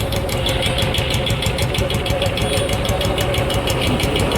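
A Royal Enfield Bullet motorcycle engine idles steadily close by, a continuous low thumping drone with a fast regular pulse and no revving, running alone without any talk over it.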